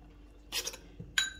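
A spoon clinks against a bowl while olive oil is mixed into a fish marinade, two short light rattles with a soft tap between, close and quiet.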